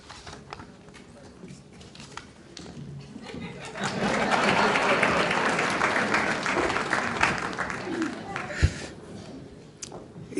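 Applause at a charity gala dinner rises midway from a quiet room with scattered voices, swelling into sustained clapping from the audience with some chuckles, then fading back to murmurs near the end.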